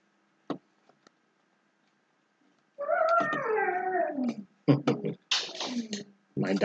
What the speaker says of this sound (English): My dog is crying because he is outside right now.